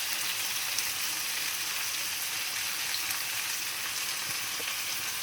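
Red pine mushrooms frying in a pan give a steady, soft sizzle and crackle that runs the whole time at moderate volume, close by, with no talk over it.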